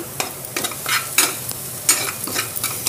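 Spice masala for pav bhaji sizzles and fries in a kadhai while a spoon scrapes and stirs it in steady, repeated strokes, loud and close with no talking.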